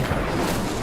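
A fiery spell burst from Hogwarts Legacy, a short, dense rumbling roar of flame that fills the whole moment at steady loudness.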